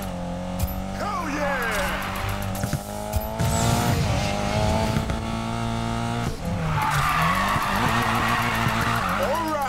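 Race car drifting in Need for Speed Payback, engine revving with wavering tire squeal that rises in two long bursts over game music and other effects.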